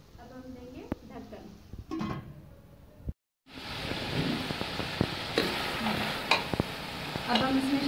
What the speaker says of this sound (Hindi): अदरक हम इसको भुनेंगे ताकि इसमें नमक और मिर्चें ऐड हो जाए